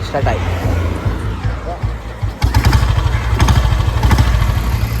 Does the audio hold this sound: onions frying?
no